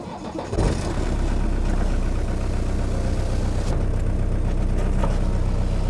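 A Mercedes 240D diesel car with a 4-speed gearbox starts up and settles into a steady, loud engine drone that runs continuously without talk.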